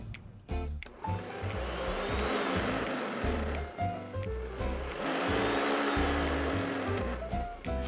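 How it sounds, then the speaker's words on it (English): A blender purees chipotles in adobo sauce with a loud, whirring motor drone that surges and pulses with the chopping. A short clatter of ingredients comes first. "toss those into your blender or food processor, and we're going to make a puree."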